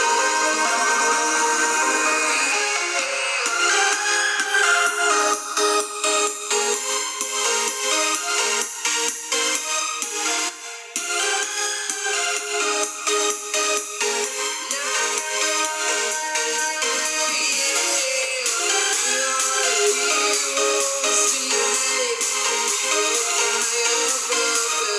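Music plays back for about 25 seconds through the Harman Kardon speakers of an Asus ZenBook UX331UAL laptop. It sounds steady and full in the mids and highs but thin, with almost no deep bass, and no one speaks over it.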